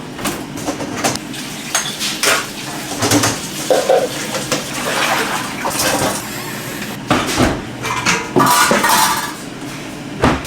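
Dishes are washed at a kitchen sink while a dishwasher is being loaded, with plates, pots and cutlery clinking and clattering in irregular bursts over running background noise.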